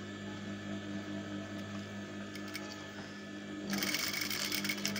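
Electric sewing machine stitching a skirt palazzo hem: a quiet, steady mechanical hum with rhythmic needle ticking, which jumps to a brighter, louder run partway through.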